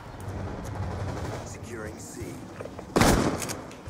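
A Remington 870 MCS shotgun fires once in Black Ops 2, a single loud, sharp blast standing out above steady game noise.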